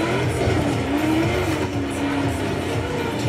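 Engine roar and tire squeal from a fast car in the racing video game Forza Horizon 3, a steady loud drone with a rising squeal running through the whole stretch.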